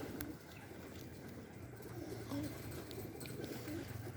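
Pigeons coo softly in the distance over a low background hum, their calls repeating a few times.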